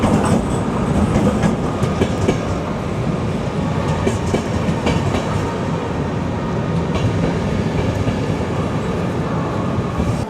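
A RegioJet passenger train rolls into a station on the Prague to Bratislava route, its loud, steady rumble and rhythmic wheel clatter filling the scene without pause and with no voices.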